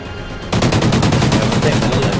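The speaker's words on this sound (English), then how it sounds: "Oh, I'm getting shot again." Rapid video game gunfire erupts after a quiet half second, a loud continuous burst of repeated shots that fills the rest of the moment, with no talk over it.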